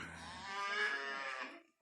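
A cow on a farm gives one long, loud, drawn-out moo aimed at a dog nearby, rising and then fading at the end, with nothing else heard around it.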